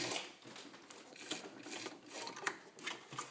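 A vintage all-steel Singer Fashion Mate 237 zigzag sewing machine stitches at a moderate pace, giving soft, close mechanical clicks and whirs in a steady repeating rhythm, with no voices.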